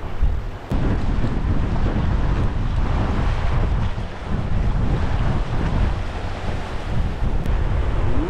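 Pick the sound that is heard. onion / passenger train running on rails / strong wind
strong wind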